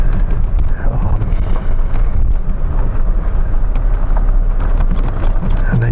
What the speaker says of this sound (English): I got her in four-wheel drive a little bit for this hill, but then I was starting to spin a bit